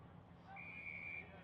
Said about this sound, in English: Whistle gone now.